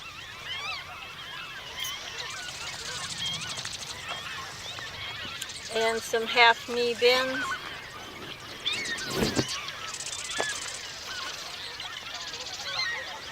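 Geese and ducks honk at a wildlife refuge, with scattered calls in the background and a short louder burst of honking in the middle, all under steady talking.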